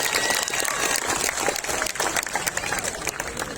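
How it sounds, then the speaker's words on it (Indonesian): A crowd at an Indonesian political rally breaks into sustained applause, dense clapping filling the space steadily for several seconds, loud and close. "Tepuk tangan untuk Sri Kandi kita."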